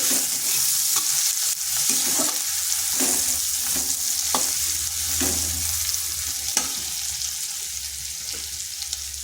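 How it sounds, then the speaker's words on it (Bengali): Chopped medium onion frying in oil in a pan, a steady broadband sizzle with repeated scraping stirs and clicks of a utensil, close and fairly loud throughout, no voices. "পেঁয়াজটা হালকা একটু ভেজে নিচ্ছি।"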